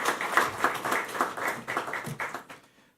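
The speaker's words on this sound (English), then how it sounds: "I think we can give her a round of applause for her service to COTA during the time." Applause at the opening session of the 27th COTA meeting: a small audience claps in a fairly rhythmic pattern, then it thins and fades out near the end.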